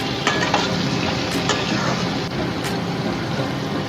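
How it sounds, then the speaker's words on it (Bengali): Potatoes for a cabbage curry fry in a pan with a loud, continuous sizzle and occasional stirring clinks, close and busy throughout. "এবারে আমি বাঁধাকপির আলুগুলো ছেড়ে দিলাম"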